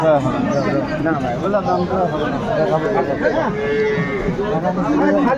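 At a busy village cattle market, the Aftabganj haat, a cow moos out amid steady crowd chatter and people talking nearby, the lowing drawn out over the voices.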